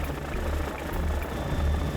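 A helicopter flies over the ice-covered Saint Lawrence, its steady low rotor drone and engine rumble filling the short stretch without pause.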